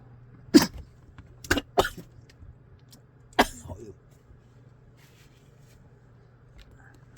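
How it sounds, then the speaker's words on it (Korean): A few sharp, isolated coughs burst out during a pu-erh tea tasting, over a low steady hum, with quiet gaps between them. "갑자기 그냥 기침이 나와가지고"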